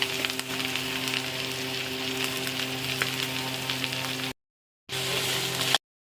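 Potatoes frying in a pan with turmeric and salt, a steady close sizzle and crackle like light rain, cut off briefly before resuming.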